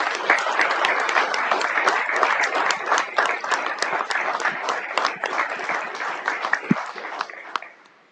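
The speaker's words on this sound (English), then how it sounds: "give one more round of applause for these great kids" A city council chamber audience applauds schoolchildren with loud, dense clapping, a few sharper individual claps standing out, sustained for about eight seconds before fading quickly at the end.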